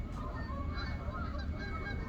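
Recorded bird sound effects play in a history museum exhibit, dominated by steady goose-like honking and calls at moderate loudness, with no one talking over them.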